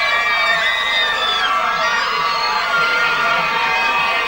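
Close to 12,000 screaming fans wait for a pop group at a public instore performance, a dense, continuous roar of shrieks and cheers, loud and unbroken throughout.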